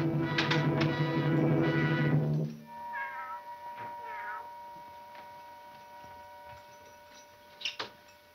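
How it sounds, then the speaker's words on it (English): A cat meows repeatedly, a loud, drawn-out wail up close, followed by quieter mewing and then faint background with a brief sharp knock near the end. "it's just a cat"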